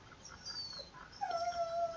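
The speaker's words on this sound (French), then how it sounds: "Là, il me perturbe le chien" A dog named Stanley whimpers indoors, giving a couple of thin, high, drawn-out whines over quiet background hiss, faint at first and a little clearer near the end.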